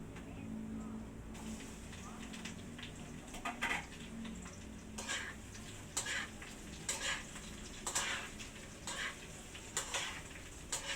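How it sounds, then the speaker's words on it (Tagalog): Bitter gourd (ampalaya) sautés in a pan with a soft sizzle, broken by a steady series of stirring scrapes and taps. It is faint overall, with voices talking in the background. "igigisa ko muna po itong ampalaya"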